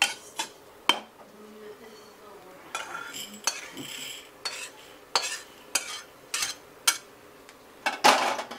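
Roasted coriander seeds being scraped out of a pan over low heat, with a string of sharp metal clinks and utensil scrapes at uneven intervals, close and fairly quiet.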